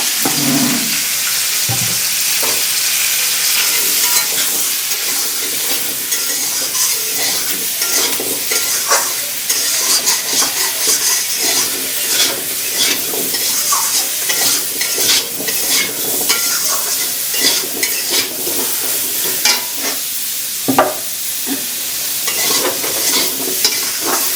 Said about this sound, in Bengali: অল্প তেল দিয়ে আগে একটু ভেজে নিচ্ছি